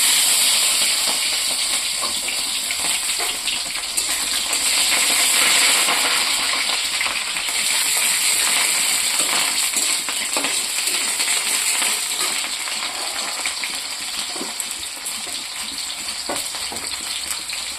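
Onions frying in hot oil, a loud, continuous crackling sizzle with scattered sharp pops and light stirring scrapes, close and steady with no voices.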